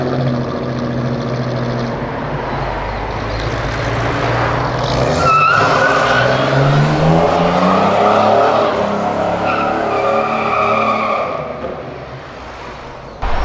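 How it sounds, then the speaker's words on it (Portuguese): Chevrolet S10 pickup doing a burnout on a São Paulo street, its engine roaring loud and sustained while tires squeal and screech, the pitch rising and falling before it fades out. "vocês viram a SS10 dando borrachão?"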